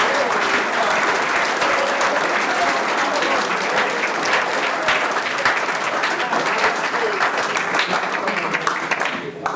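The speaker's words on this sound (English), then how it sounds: "Let's give one more round of applause to Springfield College for being such tremendous hosts for our event." Sustained audience applause fills a banquet hall at Springfield College during the NCAA Division III men's volleyball championship banquet, a dense, steady roar of many hands clapping without pause until it cuts off near the end.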